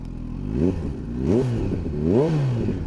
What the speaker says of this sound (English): on this new Scorpion exhaust. It still sounds pretty good, to be fair.